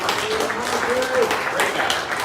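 Applause for a player at a CRHS boys basketball team banquet, a moderate crowd clapping with voices calling out over it, steady across the short stretch.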